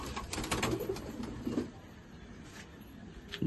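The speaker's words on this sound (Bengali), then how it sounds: "এটা দেখো আইস দেখো পায়রা" Domestic fancy pigeons in a hobbyist's collection coo in low, soft repeated notes close by, mixed with light scuffling and clicks, with no talk over them.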